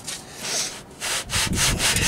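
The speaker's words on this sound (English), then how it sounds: "but this is a very, very, very sharp saw, Lily." Hand saw strokes rasp through wood while building a chicken coop, a steady back-and-forth rhythm, several close, loud strokes with brief pauses between them.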